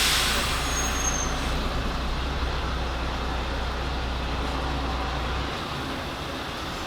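A MAN TGX truck at Immingham shifts into gear and pulls away, its heavy diesel rumble close and steady, easing off near the end.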